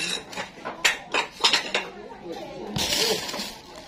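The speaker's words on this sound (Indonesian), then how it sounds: "Bongkar piring iki lha." Ceramic plates clatter and clink as they are unpacked during preparations for a communal household gathering, several sharp knocks in quick succession followed by a longer scraping rattle, with people talking nearby.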